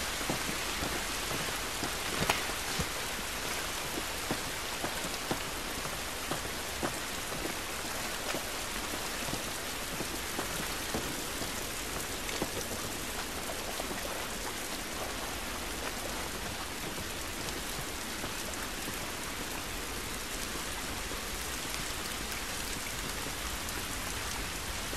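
Steady outdoor rain in The Last of Us, a dense continuous hiss of drops on surfaces with occasional faint low rumbles, even and unbroken for the whole stretch with no voices.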